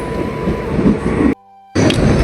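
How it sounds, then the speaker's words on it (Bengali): A train pulling into a station rumbles and clatters loudly up close, then the sound cuts out abruptly for a split second before the heavy rolling noise resumes. "ফাইনালি সেই ট্রেনটা চলে আসলো, যার অপেক্ষায় ছিলাম অনেকক্ষণ ধরেই"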